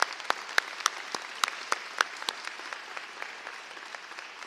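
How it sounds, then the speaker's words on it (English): Audience applause at a celebration of the Illinois Medicaid waiver expansion, crisp individual claps ringing out over a steady patter that gradually thins over a few seconds. "let's give her a big round of applause"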